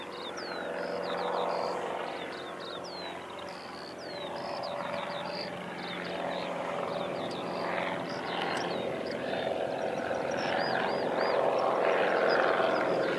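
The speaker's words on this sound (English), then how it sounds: "That's one of the mowers we've been referring to." A lawn mower running on the grounds of Christchurch Airport, a moderate steady motor drone with a faint hum, set among chirping birds throughout and no talk.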